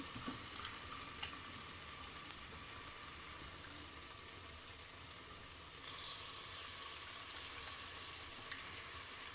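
Mint leaves stirred into khichdi frying in a pan, a steady soft sizzle with faint scraping stirs and occasional light clicks, quiet and close with no talking.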